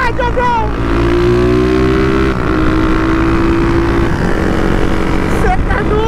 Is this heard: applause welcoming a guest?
no